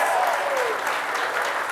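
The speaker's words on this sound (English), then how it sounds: "Round of applause for our final hour winners over there." Crowd applauding at a bass fishing tournament weigh-in, a short, steady burst of clapping at moderate level, with a voice briefly audible over it.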